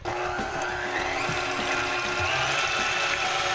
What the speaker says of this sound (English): I'm gonna whip up 2 cups of heavy cream